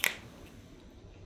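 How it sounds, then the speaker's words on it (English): One crisp, close finger snap rings out at the start, then only faint room quiet follows. "I snap my fingers"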